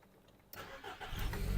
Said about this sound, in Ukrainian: Автомобіль завівся з півтику, не димить, не троїть.